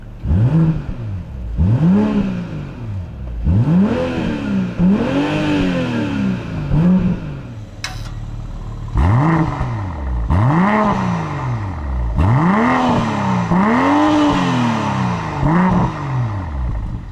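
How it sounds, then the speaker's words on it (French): A 2021 BMW M440i Coupé in sport mode with its exhaust valve open, revved hard in a series of rising and falling blips, each rev swelling loud and close before dropping back, with a brief pause midway; no talk. "on entend un petit système de valve qui s'ouvre"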